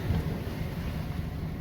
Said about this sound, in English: Pretty windy now.